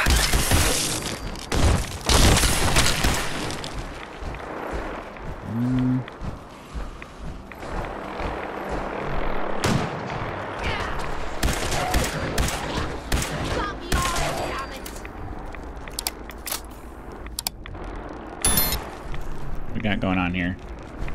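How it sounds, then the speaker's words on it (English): Gunfire hitting the player in Fallout 4 in the Glowing Sea, heard as bursts of shots and impacts layered over busy game noise, with someone talking briefly. "I'm being shot by something."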